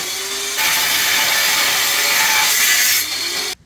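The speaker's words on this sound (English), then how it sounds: "I'm gonna cut that up and then get ready to weld." Steel angle and flat bar being cut with a power saw ahead of welding body work, a loud, steady abrasive grinding that runs for about three seconds before cutting off.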